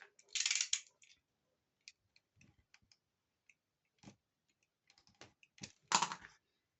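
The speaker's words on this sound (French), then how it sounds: "je vais couper au cutter" A craft knife cuts through paper for a scrapbooking album structure, with sharp scraping strokes at the start and end and soft scattered clicks and taps between, close and quiet.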